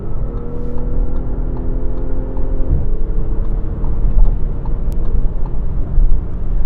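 2018 Audi SQ5 SUV accelerating hard to pass on the road, a loud rising engine drone heard from inside the cabin that drops at a gear change and keeps pulling under road noise.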